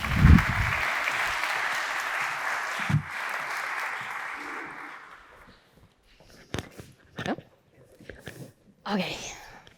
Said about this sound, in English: I want to invite my panel to join me here on the stage with a round of applause